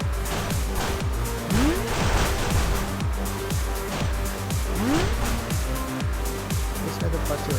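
In a kids' car racing video game, a racing car engine whines in rapid, repeated rising surges as gears shift, with brief tire squeals and a voice talking over the steady, loud engine noise.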